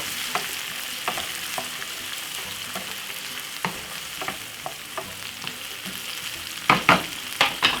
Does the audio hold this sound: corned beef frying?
yes